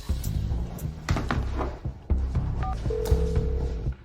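Telephone keypad tones pressed in quick succession, a few short beeps with a brief held tone, close and clear over background scene noise and scattered thumps, no talking.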